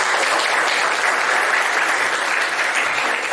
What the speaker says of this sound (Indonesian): kasih aplaus buat kelompok yang